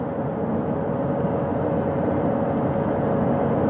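Steady, loud rotor and turbine drone of a recovery helicopter hovering to hoist Artemis II astronauts from a spacecraft's front porch at sea, an unbroken roar with no voices.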